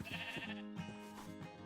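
Sheep in a video game farm bleat several times in a row, loud and close, with wavering calls overlapping one another.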